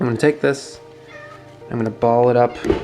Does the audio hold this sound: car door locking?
no